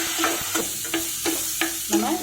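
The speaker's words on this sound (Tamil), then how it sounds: "நம்ம போட்ட குடமிளகாவும் வெங்காயமும் நல்லா வதங்கி வந்துடுச்சு" Chopped capsicum and onion sautéing in a pan sizzle steadily while a spatula scrapes through them in about six regular, close stirring strokes.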